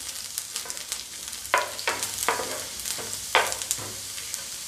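Dal masala with garlic being stirred in a pan over low heat for chana dal, a soft background sizzle broken by repeated scraping strokes of a spoon, close up and without speech.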